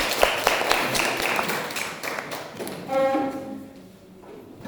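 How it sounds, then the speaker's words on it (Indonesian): Students in a class clap their hands in a quick, scattered patter of taps at the close of a presentation, followed by a short spoken phrase and then quieter room noise. "Beri tepuk tangan dulu"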